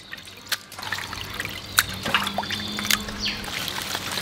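Water trickles and dribbles as raw pork liver is rinsed and squeezed by hand in a kitchen, with soft splashes and drips coming in short, irregular bursts, close by and fairly quiet, with no talking.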